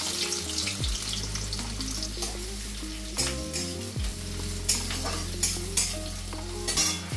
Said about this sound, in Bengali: পেঁয়াজটা ভাজার মধ্যে দিয়ে দিলাম